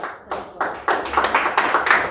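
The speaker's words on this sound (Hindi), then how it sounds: "प्रभु को ताली बजा के धन्यवाद बोल दो।" Congregation clapping hands in a church service, a run of about eight sharp, loud bursts that quicken into a rhythmic beat, with no talk over them.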